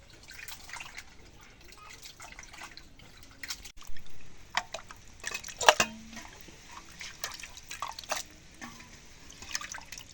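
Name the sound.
washing cut goat meat in water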